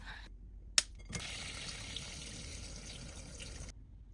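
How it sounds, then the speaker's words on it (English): Cold water runs from a tap over long broken pieces of yuba to soak them, a soft steady pour lasting a few seconds after a brief click, quiet and close. "Gently break into long pieces and cover with cold water."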